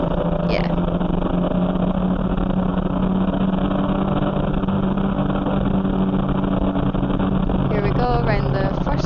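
A race car engine at Cadwell Park circuit drones loudly and steadily under acceleration from the cockpit, with a higher rising rev sweep near the end; a voice talks over it.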